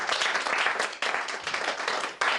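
A church congregation claps and applauds together in praise of the Lord, dense continuous clapping that stays loud throughout, with brief dips between bursts.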